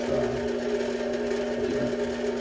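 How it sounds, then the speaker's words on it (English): Drill bit turning slowly through a workpiece at home, a steady low whirring drone with a faint grinding edge held evenly throughout, close and moderately quiet with no talk over it. "really worried about breaking the drill bit here, so I'm going super slow"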